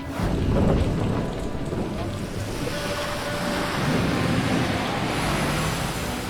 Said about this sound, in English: My journey starts in the middle of a tropical rainstorm.